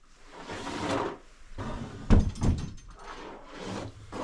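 A small jewelry drawer in a storage box slides open with wooden scraping and rattling, a few close, uneven bursts of friction and a sharper clunk midway, with no voices.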